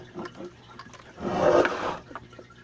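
Water pours through a small Sun canister aquarium filter, coming down from the top and drawn out the bottom, a soft splashing rush that swells for about a second in the middle before easing back to a gentle trickle.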